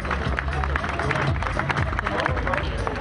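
Large roadside crowd applauding and cheering a young cyclist in a blue jersey at the final stage of a cycling race, dense continuous clapping and crowd noise throughout, close and loud.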